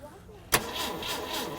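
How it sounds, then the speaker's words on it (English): A classic Volvo estate that has sat for 30 years cranks over with its engine turning steadily after a sharp start, a continuous churning drone that runs to the end, close and fairly loud. "So I think we're going to turn it over now with that lead off, and then we'll see if we can get it to fire"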